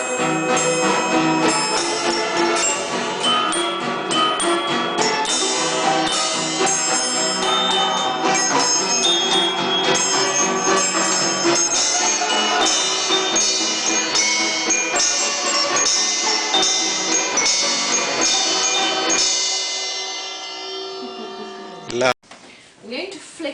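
Hand-wound clockwork mechanical music machine with bells plays a dense, loud, continuous run of chiming bell tones, then winds down and stops near the end, followed by a brief click.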